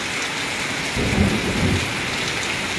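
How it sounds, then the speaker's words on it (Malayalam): Steady rain hisses throughout while a low rumble of thunder swells in the middle and fades again, in an afternoon storm at Anakkallu, Kanjirappally, Kerala. "ശക്തമായ ഇടിമുഴക്കം നിങ്ങൾക്ക്"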